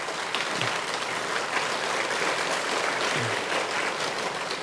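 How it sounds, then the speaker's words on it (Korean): A church congregation at Sunday worship applauds in welcome, a dense, steady clapping from many hands that fills the room without pause. "여러분 박수로 한번 환영하시겠습니다"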